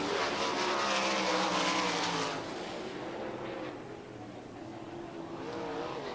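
Dirt-track sprint cars roaring around an oval in a heat race, engines loud and continuous, surging as one passes on the high side, then settling into a steady distant drone of several cars.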